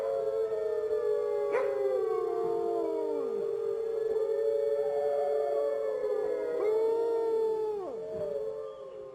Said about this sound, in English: The howling of wolves can be heard for miles.